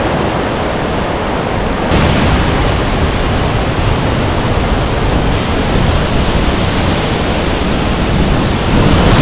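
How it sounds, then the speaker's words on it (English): A loud, steady roar of rushing river water in Washington's Olympic Mountains echoes off a nearby rock wall, a dense unbroken wash of sound with no pauses. "Sounds like another river right here"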